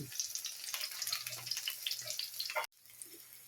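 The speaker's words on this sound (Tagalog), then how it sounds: "Ito na yung second batch ng aking pinipritong talong" Eggplant slices fry in hot oil with a faint, steady crackle and scattered pops; the sizzle cuts off abruptly near the end, then a quieter hiss continues.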